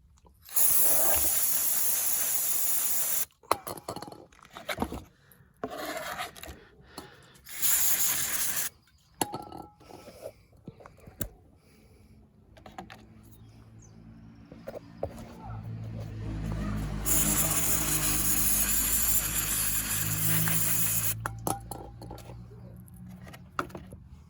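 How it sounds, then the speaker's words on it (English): Brake cleaner aerosol spray used on an E36 during a differential fluid change: several loud, sustained hissing bursts of a few seconds each, with quieter handling noises and a low rumble between them. "And my favourite, brake clean."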